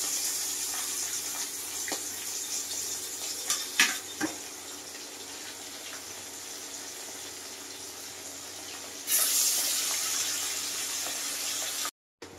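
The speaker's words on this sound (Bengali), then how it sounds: "এবার মাছটা আমি খুব ভালো করে ভেজে নেব" Parshe fish frying in hot oil in a wok, a steady hissing sizzle running throughout, with a few brief clatters and a louder burst of sizzling near the end.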